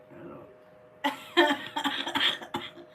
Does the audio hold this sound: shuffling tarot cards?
no